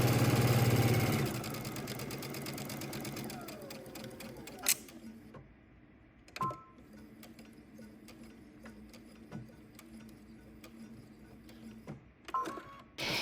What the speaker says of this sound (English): you're going to sew from the bottom edge all the way up to the top